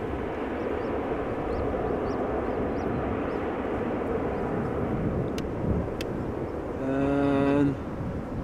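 Steady broad roar of an airliner rolling out after touching down at Amsterdam Schiphol, a continuous distant engine and wind rumble, with a brief tonal whine swelling near the end.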